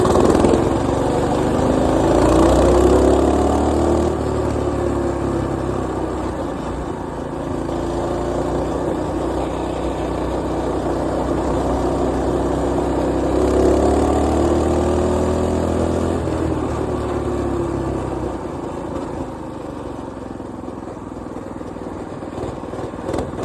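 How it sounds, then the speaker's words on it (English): A mini bike engine drones steadily and loudly while riding, with a possible chain rubbing noise blended into the continuous rough mechanical hum that swells slightly and then eases. "I think it's like, it sounds like the chain rubbing on something"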